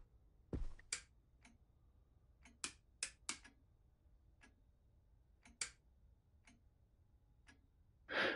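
A clock in the horror game Visage gives sparse, sharp ticks at irregular intervals in a near-silent room, with a louder thump early on and a brief swelling noise at the end.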